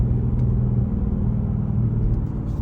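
A 2020 Dodge Charger R/T engine idles close by with a steady, deep rumble, low and constant throughout with no voices.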